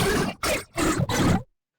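Pitch-shifted designed sound effect with a growling, roar-like texture, heard as four loud, close bursts in quick succession with short gaps, then silence.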